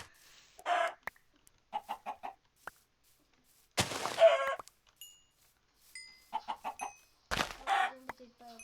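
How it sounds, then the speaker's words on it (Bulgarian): Chickens in a survival video game cluck in short clustered bursts, close and fairly clear, interrupted by loud sharp hit sounds. "О, кокошки!"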